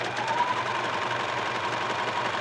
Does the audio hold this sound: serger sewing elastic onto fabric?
yes